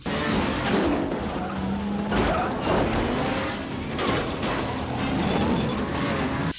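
Film car chase through steep city streets, with tires squealing and skidding over a roaring engine, a loud continuous rush of motion and screeching without any talk.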